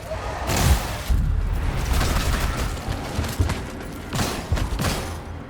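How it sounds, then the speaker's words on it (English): Gunfire rattles in Immortal: Unchained as enemies' arms are shot off, with bursts of loud rapid shots and thumping impacts coming in clusters over a constant game background. "you can pretty much neutralize these guys by shooting their arms off"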